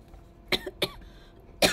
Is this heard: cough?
yes